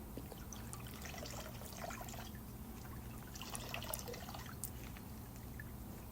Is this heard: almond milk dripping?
yes